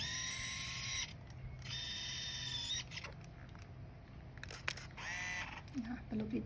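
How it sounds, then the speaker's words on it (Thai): The zoom lens of a Minolta Capios 75 compact film camera whirs in and out in several short motor bursts, close and clear, with someone talking over parts of it. "อันนี้ตัวนี้ซูมเข้าซูมออกนะคะ"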